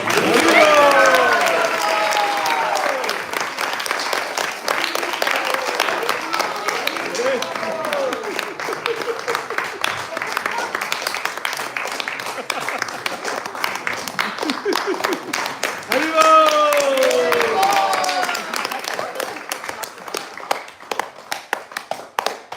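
A crowd at a devotional program in ISKCON Atlanta's temple hall applauds. Dense, sustained clapping fills the whole stretch while someone speaks over it near the start and again later.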